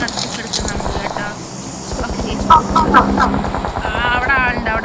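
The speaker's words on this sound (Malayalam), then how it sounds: "വിമാനത്തിന് ഒച്ച കേൾക്കണ്" Airplane engine drone in the video game PUBG (BGMI), a steady pulsing rumble overhead that plays under continuous voices talking over the game.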